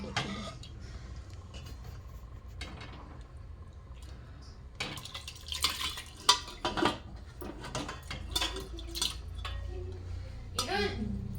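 Cooked meat being stirred in a pot for a Gobindobhog rice tehari, with scattered clinks and scrapes of a utensil against metal that grow busier and louder midway, heard alongside kitchen background noise.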